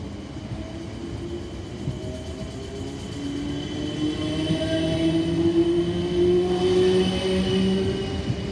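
A South Western Railway class 455 electric train, units 455852 and 455742, pulls away from platform 2 at Strawberry Hill in Greater London, its motor whine and wheel rumble steadily rising and growing louder, no voices.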